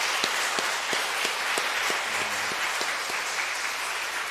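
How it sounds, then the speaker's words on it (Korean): A church congregation applauds loudly at an elder installation service marking a Methodist church's 34th anniversary, with continuous massed clapping and a few sharper individual claps standing out through the steady wash. "우리 크게 박수해 주세요"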